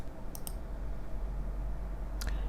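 Two quick mouse clicks sound close and crisp, one pair early and another near the end, while a computer is used to finish a software installation over a low steady background hum.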